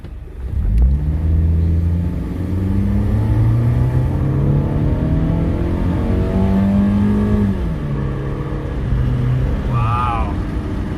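A high-mileage Honda Civic with freshly changed transmission fluid accelerates from a stop to 40 mph, its engine note climbing steadily through smooth gear changes, loud and close from inside the car.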